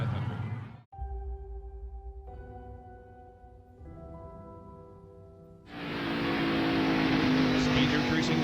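Race car engine at the Miller Genuine Draft 500 rising through steady tones as speed builds, then a loud, roaring surge of acceleration, with commentary talk over it.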